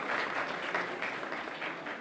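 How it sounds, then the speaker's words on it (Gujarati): An audience claps through a Teachers' Day celebration in Chhota Udepur, Gujarat, a sustained, even wash of applause from many hands with slight swells, heard from a moderate distance. "ખૂબ ખૂબ તાળીઓ થઈ રહ્યું છે"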